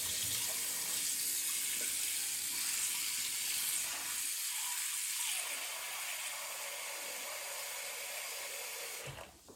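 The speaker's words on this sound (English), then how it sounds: "I'm going to get rid of this water and then have some new water" Water runs steadily into a kitchen sink as a pot used for chicken soup is emptied and refilled, a constant rushing hiss that eases slightly partway through before a brief clatter at the end.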